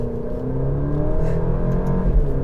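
A 2.0-litre turbo Alfa Romeo Giulia engine hums and climbs steadily in revs from inside the car, a close continuous drone with no talking.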